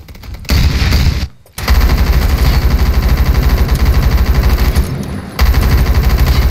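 Sustained light machine gun fire in the Phantom Forces shooter game, loud and continuous with rapid bursts, briefly cut off once near the start and again shortly before the end.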